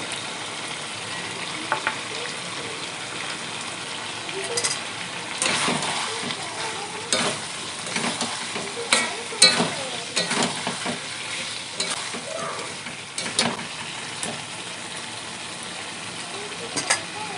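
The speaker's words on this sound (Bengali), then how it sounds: "মাংস কষানো হচ্ছে।" Broiler chicken meat with green chilies and chopped coriander sizzles steadily in a pan while being sautéed, with repeated scraping and stirring strokes rising over the frying hiss, close and unaccompanied by talk.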